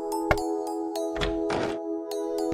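Dull, irregular knocks land on a wooden cottage door, a few soft thuds over a steady background of sustained musical tones.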